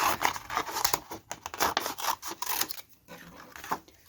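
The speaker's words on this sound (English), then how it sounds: "we'll just cut that off" Scissors cutting through rolled elastic for a journal holder: a quick run of close, crisp snips and crunchy cuts, with a short pause before a last few cuts. No one speaks.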